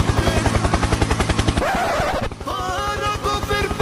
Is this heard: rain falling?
no